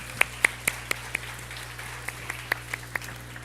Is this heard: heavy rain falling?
no